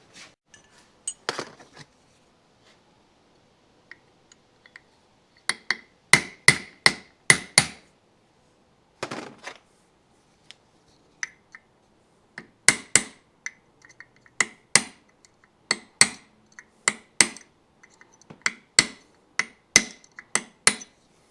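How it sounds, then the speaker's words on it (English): Sharp metallic hammer blows on a chisel, driven against a hub during the lower-end teardown of a Yamaha GT80 motorcycle engine. The strikes come as loud, close single hits and quick bursts, with short pauses between groups and no talking. "let me get a chisel and we'll get this hub off"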